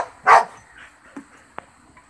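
A dog gives one sharp, close bark, followed by a couple of softer yips and small sounds in a quiet room.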